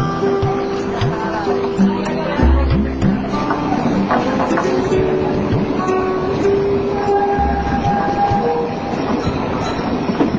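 Train running on an Indian railway: a loud, close, continuous rumble with repeated rhythmic wheel clatter and metallic squeals, and voices murmuring beneath it.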